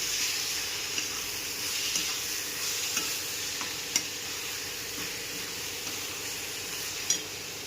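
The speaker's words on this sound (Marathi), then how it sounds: "बारीक केलेली शिमला मिरची यामध्ये चांगली परतून घेऊया." Finely chopped capsicum sautéed in a pan for a soya momo filling, with a continuous loud oily sizzle and a few sharp spatula clicks against the pan.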